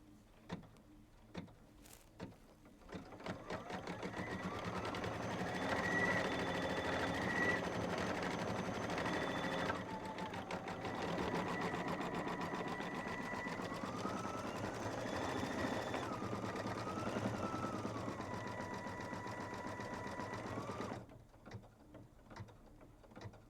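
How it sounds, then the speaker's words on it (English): An embroidery sewing machine stitches out the word "spring" for a quilt project, a steady close mechanical whirr with rapid needle rhythm and shifting motor pitches for about fifteen seconds before stopping. "let's go back to the machine and stitch out the word spring"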